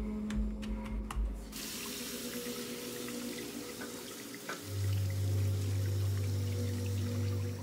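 Tap water runs into a sink while hands are washed with soap and warm water, a steady rushing stream with a brief knock midway and a low tone entering toward the end.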